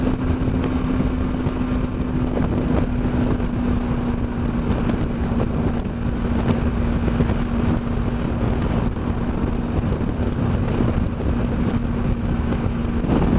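Onboard a BMW G310 GS motorcycle cruising on a three-lane motorway at about 70 mph, a steady engine hum runs continuously beneath heavy, rushing wind noise with no letup.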